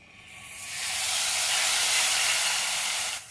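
Onion puree hits hot oil seasoned with mustard seeds, cumin and asafoetida, setting off a loud, steady sizzling hiss that swells within the first second, holds, then cuts off near the end.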